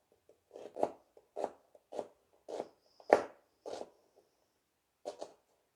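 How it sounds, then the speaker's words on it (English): A knife finely chops diced onion on a cutting board with a series of quiet, short, scraping cuts, about eight strokes in an uneven rhythm and then a brief pause, close up with no talking. "We're going to finely chop some diced onion."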